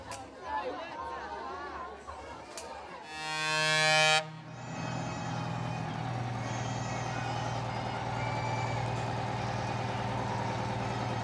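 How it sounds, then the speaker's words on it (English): Truck air horns blast in a long, loud chord during a children's Christmas truck convoy, rising for about a second before a steady engine and crowd rumble with chatter carries on underneath. "Father Christmas arriving in the truck with the horns blasting"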